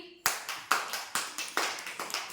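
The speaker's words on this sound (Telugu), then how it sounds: "క్లాప్స్ కొట్టండి" Children clapping rhythmically, about six even claps in quick succession, close and crisp with nothing else around them.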